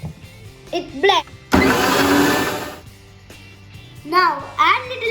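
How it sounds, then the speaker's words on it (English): A kitchen blender whirs loudly for just over a second while chopping mango and mint leaves, a harsh, even roar between stretches of a voice talking. "Then let it blend."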